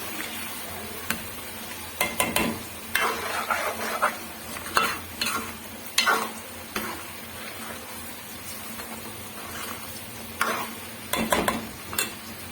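Onions and mutton fry in a pot and are stirred again and again, so bursts of scraping and clatter ride over a continuous sizzle, close up and fairly loud, with no talking.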